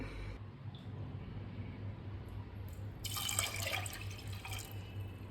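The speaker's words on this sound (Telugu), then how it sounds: "మనం ఎంతైతే కప్ తీసుకున్నామో దానికి 2 కప్పుల వాటర్ పోయాలన్నమాట." Water pours in a brief, bright gush into a metal pressure cooker, preceded by soft trickling and a steady low hum in the background.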